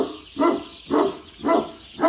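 Three loud, nearby barks from a dog at a home, evenly spaced about half a second apart, with no voices.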